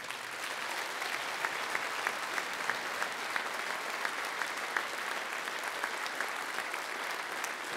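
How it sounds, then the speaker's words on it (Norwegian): Steady applause from a large gathering at the opening show of a national party conference, a dense even patter of many hands that holds at a constant level throughout. "Gi deg en god applaus"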